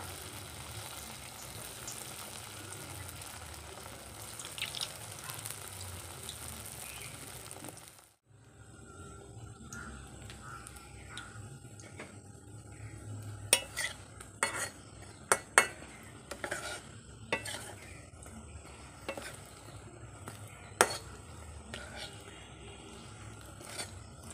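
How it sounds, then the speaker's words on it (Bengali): Eggplant pieces hiss and sizzle steadily in hot oil, then the sound cuts off briefly and resumes, with sharp clinks of cutlery and pans scattered over the frying. "একটা একটা করে আমি বেগুনগুলোকে ছেড়ে নেব তেলের মধ্যে।"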